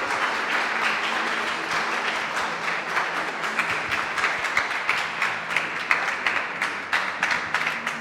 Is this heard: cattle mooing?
no